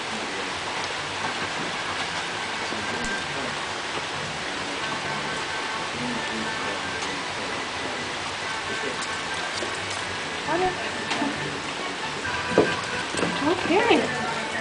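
Rain falls steadily on an outdoor bearded dragon enclosure, a constant soft hiss of drops throughout, with a few louder clicks and taps near the end.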